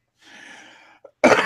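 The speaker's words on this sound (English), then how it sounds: "so that's the first cough in quite a while" A single close, loud cough bursts out from someone recovering from a cold, preceded by faint breathy noise and a brief small sound.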